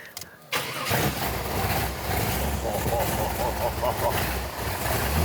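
An iconic Hollywood car's engine cranks and catches after a brief quiet moment, then settles into a loud, rumbling idle close by, with someone talking over it.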